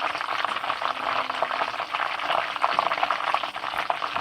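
Continuous crackling sizzle of mustard-battered chicken wings frying in hot oil, with bubbling and popping throughout and no voices.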